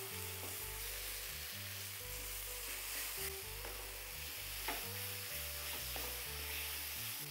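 Dried red chili paste with salt stirred and frying in a pan, a steady broadband sizzle with scraping stirs, under a sustained low musical background with no talk.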